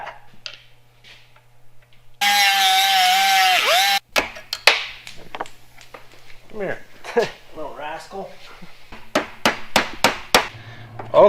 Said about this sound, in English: Hit a hammer with a hammer. I'm gonna hammer with a hammer.